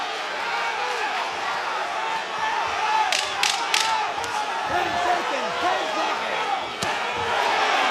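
A boxing arena crowd reacts as a round ends, a dense continuous murmur of many voices with a few sharp shouts and bangs rising out of it, a commentator's voice woven underneath.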